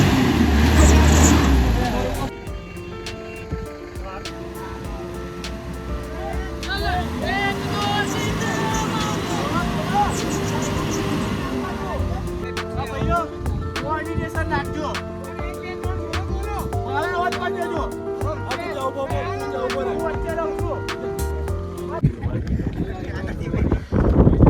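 A bus near Chandrataal with its rear tyre stuck in mud, a loud sustained engine drone that strains and shifts over a long stretch, while people talk over the noise.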